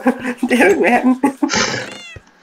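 A cat meows in Minecraft, a short drawn-out call near the end, mostly covered by someone talking over it.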